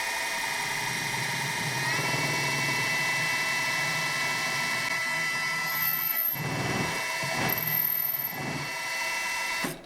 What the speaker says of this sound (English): Then I'm going to go in with a starting drill bit here.